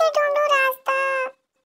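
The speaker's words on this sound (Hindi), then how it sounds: "ये तो बकरी के बच्चे की आवाज है।" Two high, quavering bleats of a baby goat, close and clear, the second slightly longer, followed by silence.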